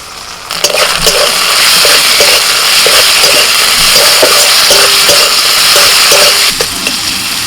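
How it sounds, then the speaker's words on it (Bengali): Chopped tomato added to onion and ginger-garlic paste frying in a pan sets off a loud, steady hissing sizzle that holds for several seconds, close up and with no talking. "এবার দিচ্ছি টমেটো কুচি"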